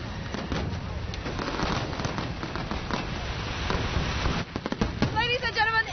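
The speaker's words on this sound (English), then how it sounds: "enjoy the fireworks because this marks the end of the celebration" Fireworks mark the end of a Li people's March 3 festival celebration, producing a dense, crackling barrage of pops and bursts that continues throughout, with voices heard near the end.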